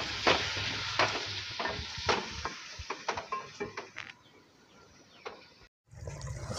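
Potatoes with masala are stirred in a pan over a sizzling hiss, with a spatula scraping and tapping in an uneven rhythm, then a brief pause before the sizzle resumes.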